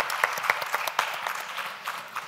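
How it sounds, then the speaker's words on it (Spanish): A small group claps for a couple of seconds, the quick hand claps close and moderately loud, tapering slightly toward the end. "un gran aplauso lo primero"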